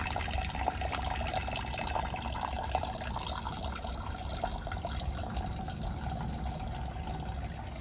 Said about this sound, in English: still no signs of any fuel stopping from coming out of that siphon kit